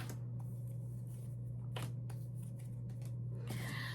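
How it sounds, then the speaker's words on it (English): Soft rustling and snapping of tarot cards being shuffled in several short bursts, close up, over a steady low hum. "We're going to shuffle them this way then"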